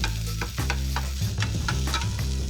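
Burgers chopped with a metal spatula on hot cast iron inside a Gozney Dome oven, steady loud sizzling under a run of rhythmic scraping, clanking strokes, no talk.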